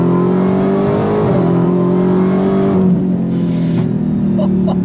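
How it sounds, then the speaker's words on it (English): Dodge Challenger Demon V8 revving hard on throttle, a loud, steady, close engine roar with a slight pitch shift and sustained growl throughout, no talking. "Sound of that V8."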